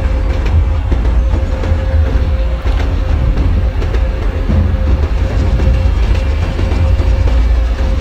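A passing train on the opposite track in the MSTS train simulator, an Indian Brahmaputra Mail Express hauled by a WDM 3 diesel with LHP coaches, gives a steady loud rumble with a sustained tone and rail clatter, no talk.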